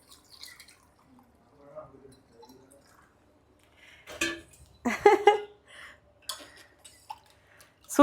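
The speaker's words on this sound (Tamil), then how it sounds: "கொஞ்சம் வெண்ணி தண்ணி ஊற்றும்." Hot water trickles and drips into a glass of lemon sherbet in a kitchen, with scattered splashy pours and a few clinks while a voice talks intermittently nearby.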